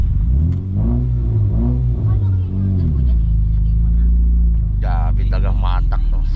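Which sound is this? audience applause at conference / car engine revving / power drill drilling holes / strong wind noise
car engine revving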